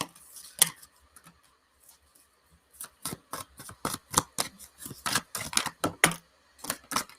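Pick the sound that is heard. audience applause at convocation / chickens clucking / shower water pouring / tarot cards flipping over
tarot cards flipping over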